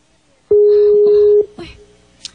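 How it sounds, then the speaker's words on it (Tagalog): A Skype call alert goes off as one loud, steady electronic tone lasting about a second, followed by a few softer clicks and a brief high blip. "Nanawag sa akong Skype."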